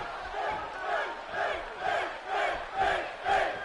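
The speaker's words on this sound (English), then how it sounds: "The crowd here in Anaheim fully behind Finn Balor." A large wrestling arena crowd in Anaheim chants and roars in rhythmic surges about every half second, loud and massed, cheering for Finn Balor during a match.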